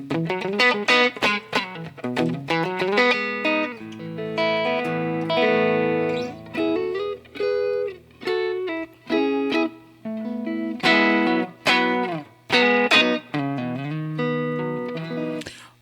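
Electric guitar played through a Fender amp model on a Helix with reverb mix at 20%, a run of sustained chords and plucked notes ringing out and decaying into a short wash of echo.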